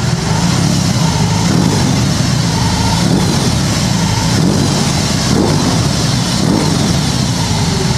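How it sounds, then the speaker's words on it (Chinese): A BMW R18 boxer-engine touring motorcycle revving as the throttle is twisted repeatedly, a loud, close, continuous engine rumble that swells in several pulses over about eight seconds. "拧一下油门听一听"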